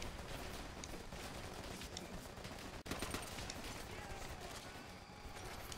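Rapid machine gun fire in the Call of Duty: World at War video game, a dense, continuous rattle of shots that stays faint and steady for several seconds.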